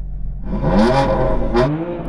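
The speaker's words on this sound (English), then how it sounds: "Rev yours up again, Max." A modified BMW inline six with a turbocharged engine revs sharply twice in quick succession, then once more, with loud, close, rising snarls over a low idle rumble.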